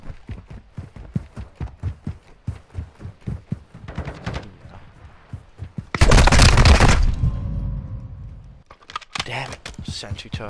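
A Vex SMG fired in Modern Warfare 2, first a rapid string of sharp clicks, then a single loud blast with a roaring tail of about two seconds, followed by more quick bursts, with talk in between.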